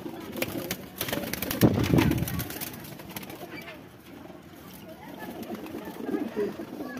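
Domestic pigeons coo in a loft as they are given worm medicine, soft throaty calls rising and falling close by, mixed with faint rustling and intermittent background voices.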